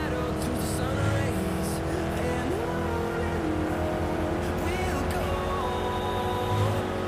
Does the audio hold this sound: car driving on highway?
yes